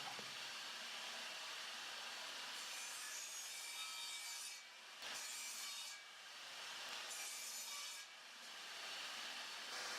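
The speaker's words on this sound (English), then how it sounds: "cut them using my miter gauge on my table saw" Table saw cutting small wooden pieces guided by a miter gauge, a steady high whirring blade with three separate cut passes marked by brief drops between them, close and alone.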